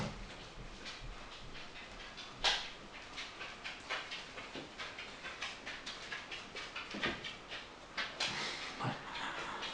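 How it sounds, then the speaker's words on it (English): A dog walks past indoors, its nails ticking in an even rhythm on the floor, with soft panting and snuffling close by in an otherwise quiet room. "My dog walking past."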